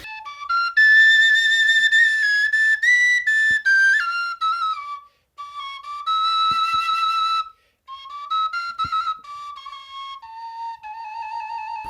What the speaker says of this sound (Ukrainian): Оце сопілка пластикова.